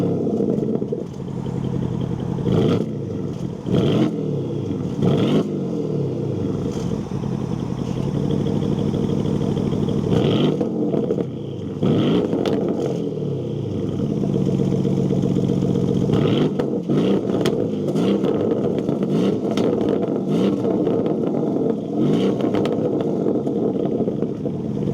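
A 2024/2025 Porsche Cayenne S exhaust revving repeatedly, with sharp throttle blips rising and falling, deep rumbling idle between pulls and crackling pops, loud and close with no talk.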